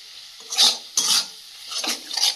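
Spices fry in a pan with Kashmiri chili powder and salt while a spatula scrapes and stirs, giving four or five close bursts of sizzle and scraping between quieter moments, with no talk.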